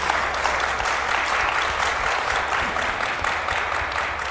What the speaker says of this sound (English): Can we get a round of applause for our amazing panelists?